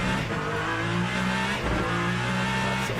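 Ferrari hypercar racing at Sebring in Le Mans Ultimate, a steady loud engine drone with shifting revs and brief dips as the car moves through gears.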